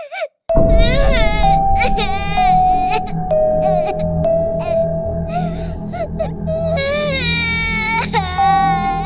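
A woman crying and sobbing in grief in a hospital setting: loud, sustained high-pitched wailing with breathy gasps and whimpers, rising and falling in long drawn-out sobs with a brief catch of breath.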